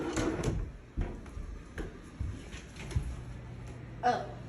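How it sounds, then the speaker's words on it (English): An oven door opening in a home kitchen during pizza making, heard as a few soft clunks and thuds spread over a few seconds, quiet and close, with brief speech around them. "Oh, Yeah, open the oven."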